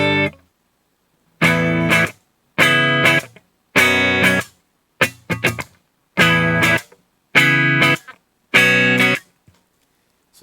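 Electric guitar played dry through a noise gate, compressor, amp head and cabinet, with no modulation effects: seven crisp, distorted strummed chords in short bursts, each cut cleanly to silence by the gate between strikes.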